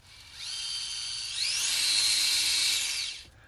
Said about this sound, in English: that noise is the worm drives